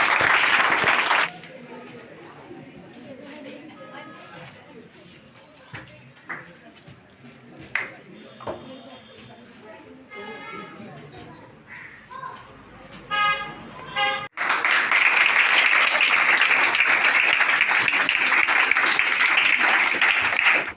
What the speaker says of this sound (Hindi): तालियों के साथ स्वागत किया जाए।